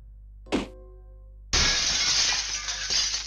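A pot shatters after falling from overhead in the video game Doll House, heard as a sharp crash that breaks into a loud, sustained spray of ceramic fragments lasting a couple of seconds, with a small earlier clink.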